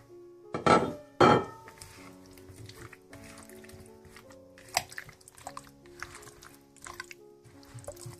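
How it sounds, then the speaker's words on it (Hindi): Peeled, cut potato pieces tumble into a dish of chicken for a roasted chicken and potato bake: two loud thuds up front, followed by scattered lighter clinks and knocks nearby. "अब ये आलू मैं चिकन में शामिल कर दूंगी।"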